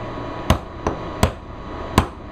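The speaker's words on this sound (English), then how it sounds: "I'm going to seat it the rest of the way with my punch." A hammer taps a punch to seat the trigger pin of a Ruger LC9 pistol: four crisp, close metallic strikes at uneven intervals, the second lighter, over a quiet steady room hum.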